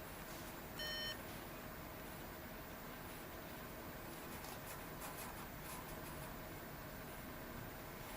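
Fujitsu Lifebook SH531 laptop giving a short, thin electronic beep at switch-on, brief and faint over a low steady background hiss.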